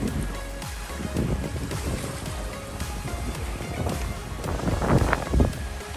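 Steady wind and water rush around a small solo boat running under sail with the motor off among rocks off Vancouver Island, a continuous broadband wash with some louder gusts and splashes near the end.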